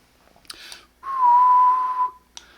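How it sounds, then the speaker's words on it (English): A single steady whistled tone into a Radioddity QT-80 10-meter radio holds for about a second, preceded and followed by brief soft clicks and rustles, with no talking. "And I'm going to whistle."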